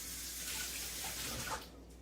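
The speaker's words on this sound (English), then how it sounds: "Let's wash your hand." A sink tap runs steadily with a broad, close hiss of water while a toddler's hand is washed, the flow cutting off near the end of the clip.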